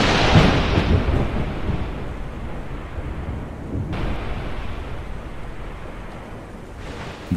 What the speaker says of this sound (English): there was a terrible storm.